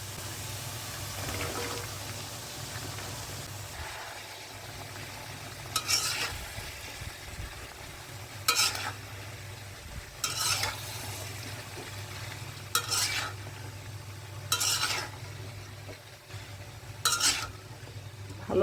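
Shrimp and vegetables with spices being stirred in a pan, a low steady sizzle punctuated by about six distinct scraping strokes spaced a few seconds apart, close up with no talking.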